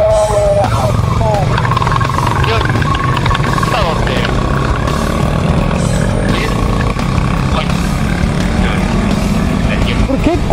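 Yamaha YZF-R25 motorcycle engine pulling hard up a cool mountain road at night, a steady loud drone with rising pitch under constant wind noise, while riders chat over it.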